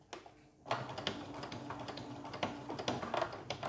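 A sewing machine stitching a zip into a maxi skirt, running in a fast, steady patter of needle strokes that stops and restarts, close and fairly quiet with no voices.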